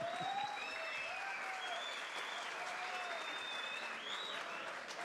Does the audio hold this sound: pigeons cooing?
no